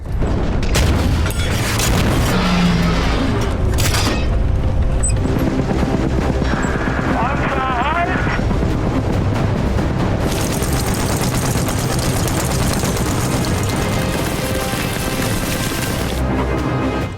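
Machine gun and anti-tank gun fire in a World War II defensive battle film, with loud continuous booms and bursts of gunfire throughout.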